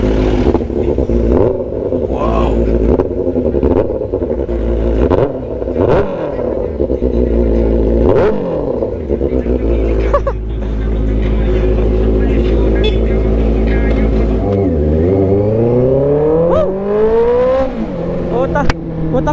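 A loud motorcycle with an aftermarket Zeus shorty exhaust barks and revs repeatedly close by, with throttle blips rising and falling in pitch before a long climbing rev.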